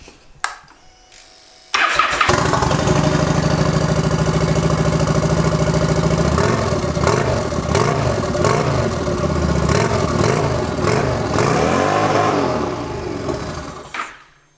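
A cheap $120 eBay turbo motorbike engine with a stuck throttle starts after a short quiet stretch, then runs loud and close with a high, sustained rev that wavers and fades near the end.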